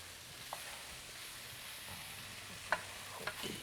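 Shredded chicken for chicken pot pie filling being stirred in a pan, faint scraping and light clinks over a low hiss, with a few sharper knocks toward the end.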